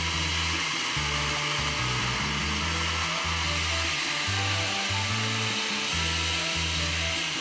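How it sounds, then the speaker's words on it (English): A blender whirs steadily, blending chickpeas for white miso and Japanese citrus hummus, with a continuous motor drone whose pitch steps up and down in short bursts throughout. "now it's time to put on the lid securely and blend it all together"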